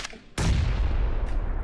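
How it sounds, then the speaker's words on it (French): A grenade explodes inside a building during a duo match of PUBG on the Erangel map: a sudden loud, close blast that cuts in abruptly and rolls on as a long, dense rumble. "la grenade qui pète à l'intérieur, ça suffit"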